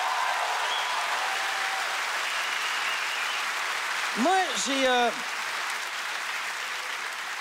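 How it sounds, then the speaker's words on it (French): Comedy gala audience applauding for ComediHa!, a broad, steady wash of clapping throughout, with a voice speaking briefly over it partway through. "j'aimerais ça qu'on donne une bonne main d'applaudissement à Comédia pour ça."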